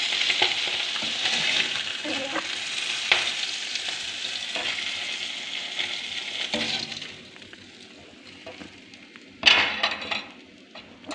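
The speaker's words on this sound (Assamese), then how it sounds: "এয়া মাছ ফ্ৰাই কৰা হৈ গ'ল" Fish frying in oil in a pan, stirred as it cooks: a steady, close sizzle with scraping and occasional utensil clinks against the pan, quieting toward the end before a brief clatter.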